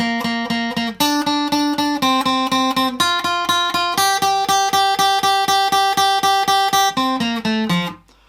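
A plucked guitar plays the build section of a meme song, repeating single notes in steady groups of four, stepping up through several pitches, loud and clear, ending on a short slide.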